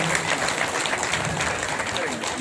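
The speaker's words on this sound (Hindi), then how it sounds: "इसी बात पर एक बार ताली बजा दीजिए आप लोग।" Audience at a Sundarkand devotional gathering claps in a dense, steady wash of applause that lasts throughout, with voices mixed into the crowd noise.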